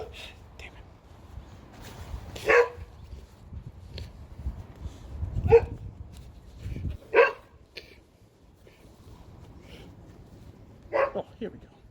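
Dogs barking indoors in several sharp, separate bursts spread across the clip, with a person talking under and between the barks.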